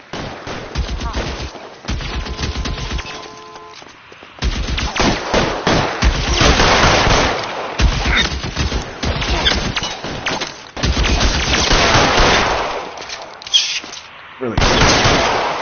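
A chaotic gunfight erupts in L.A. Noire, with repeated bursts of rapid automatic fire and sharp single shots crackling loudly in clusters, broken by short lulls where voices shout over the shooting.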